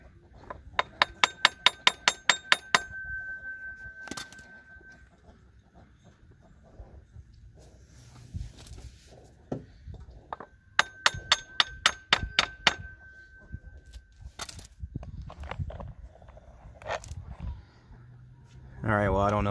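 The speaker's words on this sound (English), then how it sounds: "I'm going to take a block of wood and a hammer and lightly tap on it to try to drive that down on the shaft" A hammer taps a block of wood to drive a new crankshaft seal onto the shaft of a 2002–2006 Nissan Altima or Sentra 2.5 engine, two quick bursts of sharp metallic strikes, clear and close, with quiet shuffling between them.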